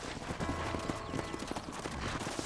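Horse hooves clip-clopping at a steady walking pace in Red Dead Redemption, close and clear over a faint ranch ambience, with no voices.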